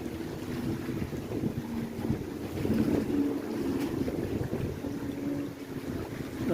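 Ocean wind gusts roar across the microphone near choppy water, a steady low rumble that swells and eases, with waves and boat noise mixed in and no talking.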